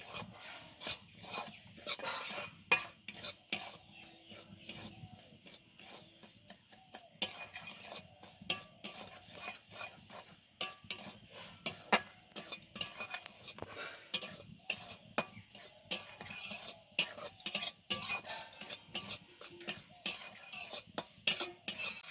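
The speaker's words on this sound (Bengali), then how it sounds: "সুজি ভাজার সময় অল্প একটু সাদা তেল দিয়ে দিলাম" Semolina is roasted in a little oil, with rhythmic rasping scrapes of a spoon against the pan repeating throughout and only a faint sizzle underneath.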